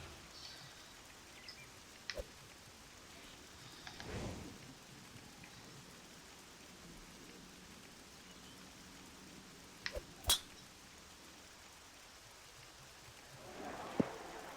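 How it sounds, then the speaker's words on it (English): Rain falling on a golf course in the Tiger Woods PGA Tour 14 video game, a faint steady patter with occasional soft rumbles and brief sharp ticks, quiet and alone. "It's just the rain that you gotta worry about."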